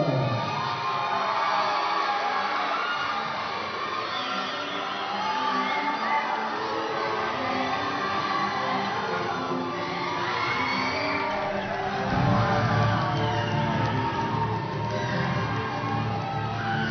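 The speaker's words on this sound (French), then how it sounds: "Sous applaudissements, l'équipe Suisse M18." Spectators at an indoor sports tournament cheer and whoop for the Swiss under-18 team, a dense, continuous crowd roar with scattered shouts and children's yells that swells briefly near the end.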